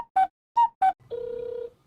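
Outgoing telephone call on a Japanese card company's support line: three short dial-style beeps, then a steady, evenly pulsing ringback tone lasting about half a second, clean and alone with no talk.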